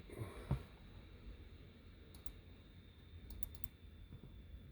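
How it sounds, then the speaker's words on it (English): Faint computer keyboard typing, a few light scattered keystrokes and short bursts of clicks at a distance over a steady low room hum, with no one speaking. "And we call it some keyboard action."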